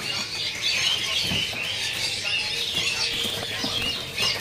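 Small cipo birds kept for sale at a bird kiosk, giving a steady busy twittering and fluttering with light rustling, close and continuous throughout.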